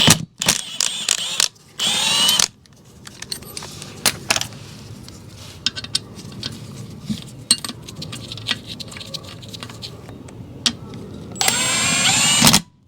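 A power tool removes a small 12mm bolt from the alternator bracket of a Toyota Sienna 3.5L V6 2GR-FE, with loud, close whirring bursts at the start and end and metallic clinks and handling noises in between.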